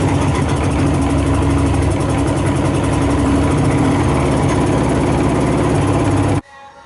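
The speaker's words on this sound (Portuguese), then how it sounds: "Eu vou dar uma partida sem ficar acelerando muito, só para deixar a gasolina esgotar nos carburadores." A Suzuki GT motorcycle engine idles steadily after starting, running lightly on the fuel left in its carburetors, a loud, close, continuous mechanical rumble that cuts off abruptly near the end.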